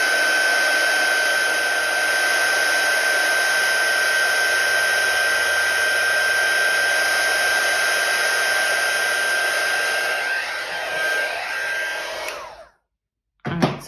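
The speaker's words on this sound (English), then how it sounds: "I'm gonna use my heat gun." A heat gun drying watercolor paint gives a steady, loud whirring blow with a high whine, running for about twelve seconds before it shuts off abruptly.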